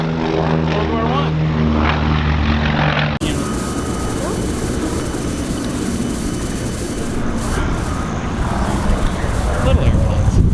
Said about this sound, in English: The Blériot. First airplane to cross the English Channel.